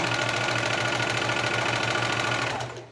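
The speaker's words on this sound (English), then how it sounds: "And then we're just going to go on ahead and continue sewing." A sewing machine fitted with a walking foot runs through high-pile fabric for a travel blanket, giving a loud, steady, rhythmic chugging that fades out at the end.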